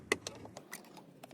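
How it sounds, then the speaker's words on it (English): A pocket screwdriver pries an interior trim piece out of a 2019-2024 Nissan Altima door, giving a sharp plastic click followed by several faint ticks and small snaps, close and quiet. "you're going to pop this little interior trim piece out"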